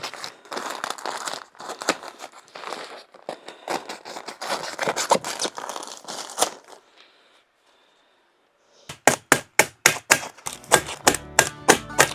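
A blade scores and snaps a sheet of drywall with dense crinkling, scraping strokes, then after a short quiet gap a run of crisp, evenly spaced cutting clicks, all close and fairly soft.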